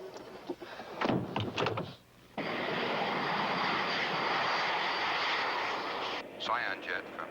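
A steady, loud roar of a jet aircraft engine in flight fills most of the stretch, preceded by a couple of thumps and a short pause, then easing as brief clicks and knocks return near the end.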